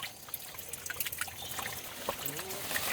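Drinking water trickles faintly in a small hill stream channel, a soft continuous dribble with light splashes, fairly quiet and close.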